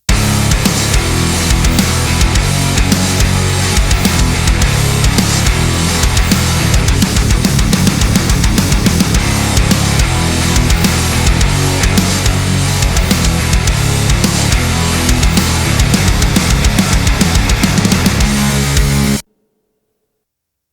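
A full drum kit plays a dense, loud mixed groove with punchy kicks and crisp cymbals, continuous until it cuts off abruptly near the end.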